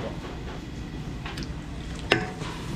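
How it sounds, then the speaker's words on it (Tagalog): Cordon bleu frying in a pan at a catering job for a family reunion, a steady broadband sizzle throughout with a sharp clink near the end, close and fairly loud. "mag-i-start na rin mag-prito si Kimpi ng cordon bleu"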